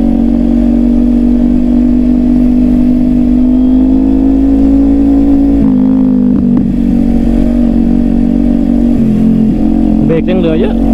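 A Kawasaki Ninja 400 motorcycle with a slack chain roars loud and close, its engine tone holding steady and then dipping and shifting as the rider changes speed, while a voice talks over it.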